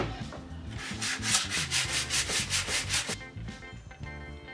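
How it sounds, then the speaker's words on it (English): Light hand sanding of varnish on a pine chest of drawers, a steady series of rhythmic back-and-forth rubbing strokes, close and fairly loud, with no talking. "So I'll give it a light sand and then another coat."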